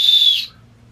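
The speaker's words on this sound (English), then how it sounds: "And then I got a little like whistle thingy." A small toy whistle blown once in a short, shrill, steady tone lasting under half a second, close and loud, then cut off into quiet.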